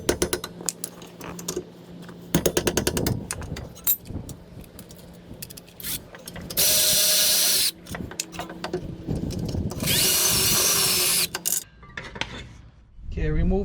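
Power tool running in bursts while removing the two rear brake caliper mount bolts on a 2012 Toyota RAV4, two sustained loud whirring runs standing out among clanking metal handling sounds in a garage.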